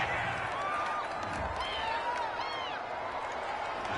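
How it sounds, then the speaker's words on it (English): A stadium crowd in an American football video game reacts to a roughing-the-passer penalty call with a sustained, moderately loud murmur and jeering, steady throughout under a continuous noisy bed. "this crowd does not like that call"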